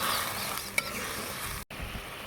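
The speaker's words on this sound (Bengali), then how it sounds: "এখন আমি মশলাগুলোকে ভালোভাবে কষিয়ে দেব।" Ginger paste, chili, turmeric and coriander powders and salt sautéing with radish and eggplant in a pan, a steady soft sizzle with one brief stirring clink and a short drop-out, fairly quiet.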